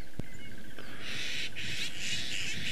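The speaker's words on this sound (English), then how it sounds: "You see those starlings mobbing it?" Starlings calling in a noisy, high-pitched chorus while mobbing a black mamba outdoors, with dense chattering calls throughout and one brief sharper note near the start.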